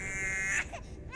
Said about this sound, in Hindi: लेकिन बच्चे के रोने की आवाज तो आ रही थी ना।